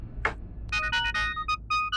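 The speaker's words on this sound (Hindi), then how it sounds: "डॉक्टर मेंडोजा का फोन" A phone ringing indoors: a short bright chirp, then a run of repeated electronic ringtone bursts in a choppy rhythm, fairly loud and close, with no talk over it.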